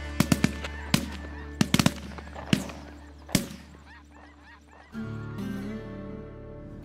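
Geese honk repeatedly in sharp bursts amid several loud popping shotgun shots during a duck and goose hunt, then a lower sustained droning sound takes over near the end.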